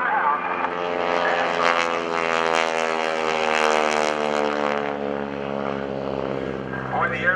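Propeller airplane flying at the 2012 NAS Oceana airshow, giving a steady, droning engine hum with a rich buzzing tone that holds evenly throughout the clip.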